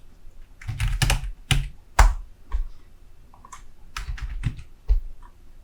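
Keys clatter on a computer keyboard in two quick bursts of typing separated by a pause. The clicks are close but soft, with no voices.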